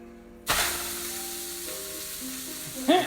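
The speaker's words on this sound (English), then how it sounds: "I'm just going to throw that steak right in there." Steak dropped into a hot pan on the stove bursts into a loud, sudden sizzle that settles into a steady close hiss, with a brief scrape or movement near the end.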